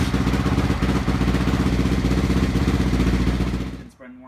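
Honda CRF450R motorcycle engine idling steadily to warm up its oil before an oil change, a loud, close, continuous rumble with a fast even beat that cuts off abruptly near the end.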